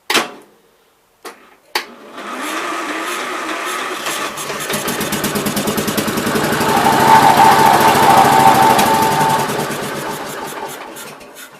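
A 1968 Gravely 430 garden tractor engine starts with a couple of brief catches, then runs steadily with a loud, rapid mechanical chatter that builds and holds before easing off and shutting down.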